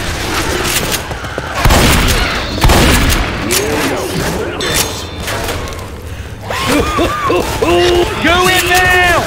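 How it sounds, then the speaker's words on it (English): Gunshots and heavy booms in Counter-Strike on the office map aimed at a zombie, several loud thumping shots in the first half, with people talking throughout. "Shoot that zombie in the back."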